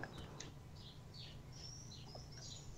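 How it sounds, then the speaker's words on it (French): Faint, high chirps and tweets from small birds, scattered and intermittent over a quiet low background hum. "j'entends aussi un zoo d'oiseaux."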